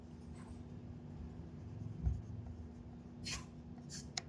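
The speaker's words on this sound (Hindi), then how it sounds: "मैं अपनी बर्थडे डेट लिख दूंगी यहाँ पे" A pen scratches out a birth date on a paper form, producing faint, close strokes and brief scrapes against a quiet room hum.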